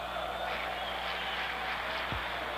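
A steady roar from Botafogo supporters at the Maracanã during a 1998 Rio-São Paulo tournament match against Corinthians, a dense, even crowd wash heard from a distance with no breaks.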